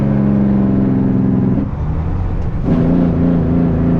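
A farm truck pulling away on a rural road, its engine droning steadily up close and loud, with a brief dip and shift in pitch as it changes gear before climbing again; no voices.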